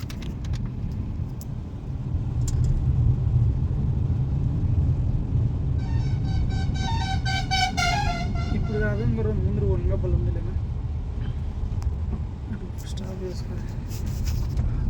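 A car travelling in a convoy along a cool forest road gives a steady low engine and road rumble throughout, with a tonal, horn-like passage midway and voices talking inside the car.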